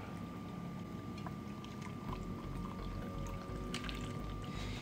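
Cooled brine is poured into a jar over sausages, bay leaf and peppercorns, making a faint, continuous gurgling and splashing that runs steadily throughout with no talk.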